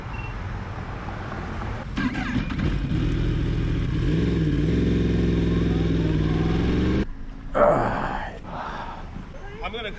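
A motorcycle engine idles with a steady low rumble, slows as the rider pulls into a parking lot during a traffic stop, then cuts off abruptly. A short clattering burst and road noise follow.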